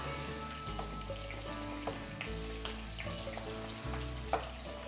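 Oil sizzles and fries steadily in a pan while a seafood risotto base with tomato is cooked, a continuous close crackle with a few light clinks of stirring.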